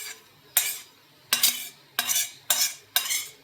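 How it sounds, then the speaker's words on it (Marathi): A spoon scrapes roasted peanuts out of a metal pan into a bowl for Solapuri peanut chutney, five separate sharp scraping strokes with short pauses between them, close and clear. "आता आपण एका बाउलमध्ये हे सगळं काढून घ्यायचं आहे बघा"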